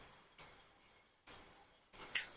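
Scissors snip a lemang wrapper in a few short, crisp cuts, close and fairly quiet, separated by silence, with the last cut longer and sharper.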